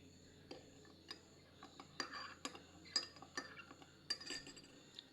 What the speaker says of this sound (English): So I'm gonna scoop and mix with my tea.